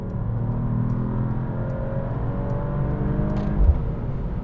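A 2025 Mercedes-AMG E53 pulls hard under steady engine drone, its rumble rising and settling with gear changes and a brief louder thump near the end, heard from inside with no talk.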